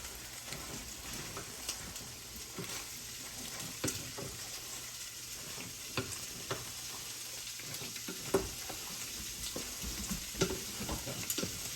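Creamy garlic penne pasta being mixed in a sizzling pan, with a steady frying hiss under scattered soft clicks and scrapes of stirring, fairly quiet and without voices.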